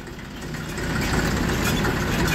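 A tractor engine idles steadily with a low, throbbing diesel rumble that grows slightly louder over the clip, close by with no talking.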